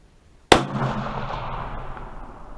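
A single loud .223 Remington rifle shot, loaded with a 55-grain Sierra bullet over 25 grains of XBR powder, cracks sharply and then rolls into a long, fading outdoor echo.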